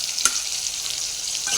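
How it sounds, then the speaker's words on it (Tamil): Chopped onions sizzle and hiss in hot oil in a pan for garlic kulambu, a steady bright frying crackle with a brief stir clatter near the start. "வெங்காயம் ஒரு 2 நிமிஷம் வதங்கட்டும்."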